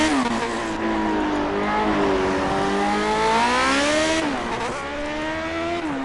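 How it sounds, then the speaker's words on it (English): Loud racing car engines in the video game Project Cars roar continuously, revving and shifting pitch as they accelerate, with a brief dip and rise in tone partway through. "Cars are ridiculously noisy."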